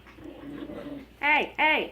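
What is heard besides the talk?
dogs playing and whimpering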